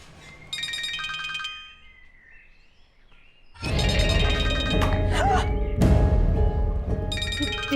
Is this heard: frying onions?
no